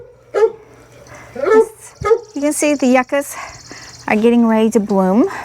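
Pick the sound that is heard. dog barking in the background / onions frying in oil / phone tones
dog barking in the background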